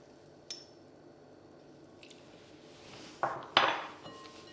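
A utensil scrapes and clinks against a bowl while mixing cake batter with sugar and vodka, with a few sharper knocks toward the end, close and fairly quiet, with no voices.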